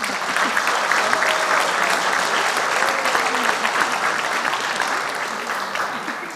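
A gala audience at a Polish seminary championship gives the organizers a long, dense round of applause that holds steady and then tapers slightly, with faint voices murmuring beneath.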